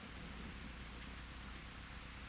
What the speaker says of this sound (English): It's night, it's rainy.